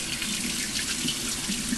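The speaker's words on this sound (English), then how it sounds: "Now I've got my hot water running here" Warm tap water runs steadily into a cold bowl while bread dough is being prepared, a close, continuous splashing hiss with no pauses and no talking.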